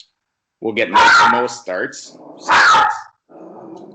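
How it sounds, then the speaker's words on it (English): A pet dog named Price growls and barks briefly in a home setting, a couple of short rough vocal bursts heard close by, mixed in with someone talking over them. "That's my dog"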